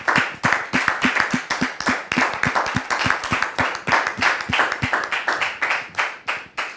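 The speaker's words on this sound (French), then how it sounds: "Public, merci de la recevoir avec vos applaudissements." Studio audience applauding on a French television talk-show set, a dense, steady burst of rhythmic hand clapping that fills the whole stretch at close range.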